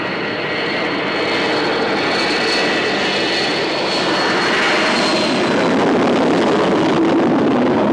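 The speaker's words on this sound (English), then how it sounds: "A lot of noise at the airport." Loud, steady jet aircraft roar at an airport filling the whole stretch, a broad rushing drone that swells slightly toward the end, with no voices.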